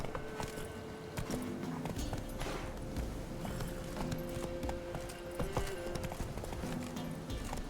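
Roach the horse from The Witcher 3 video game clip-clops along at a steady trot, the rhythmic hoofbeats up close and continuous under game music and ambience, without spoken voices.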